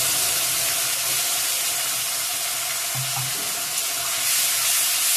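Spice paste of onion, ginger, tomato and garlic sizzles in hot oil in a pan, a loud, continuous broadband hiss with no break and no talking.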